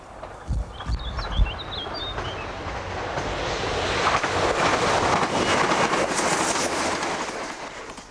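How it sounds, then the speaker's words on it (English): An intercity high-speed train bound for Oxford departs on the Cotswold line, a steady building rumble that grows louder and closer over several seconds, with wind buffeting and faint bird chirps near the start. "an intercity high-speed train bound for Oxford departs on the Cotswold line"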